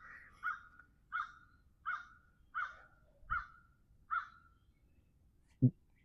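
An outdoor bird gives a series of seven evenly spaced harsh, crow-like calls, moderately distant over a faint background hiss, followed by a brief sharp knock near the end.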